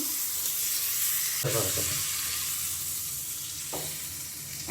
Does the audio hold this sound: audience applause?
no